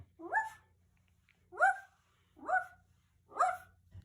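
A person imitates a dog barking, with four separate bark-like yelps spaced about a second apart, close and moderately loud, no other voices.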